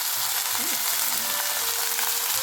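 Moringa leaves fry in a pan with a steady, close hiss of sizzling oil and occasional soft stirring scrapes, with no voices.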